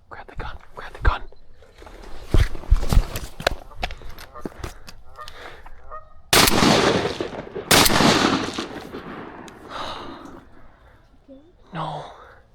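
Geese honk during a duck hunt, with loud gunshot-like bursts and whispered talk around the calls, then wilder honking near the end.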